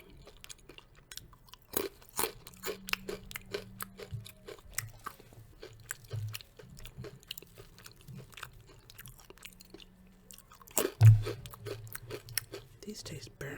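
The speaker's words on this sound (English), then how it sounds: "These are sesame sticks." Sesame sticks are crunched and chewed close up in a quiet room, a dense run of crisp crackling bites and mouth sounds that fades and then returns in louder bursts, with low murmured hums in between.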